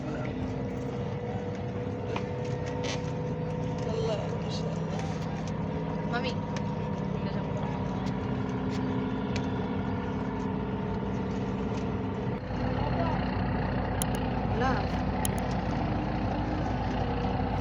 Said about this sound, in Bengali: এত বালুবাহী ট্রলার যায় যে অপেক্ষা করে করে যেতে হয়